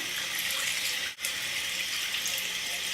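Tap water runs steadily into a sink to wet a makeup brush during cleaning with baby shampoo, a continuous close hiss with one brief dip partway through.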